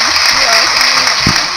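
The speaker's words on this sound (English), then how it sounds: "I think this is an applause." Brief canned applause sound effect played during school morning announcements, a dense hiss of clapping lasting under two seconds.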